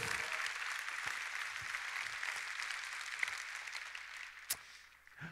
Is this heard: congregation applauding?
yes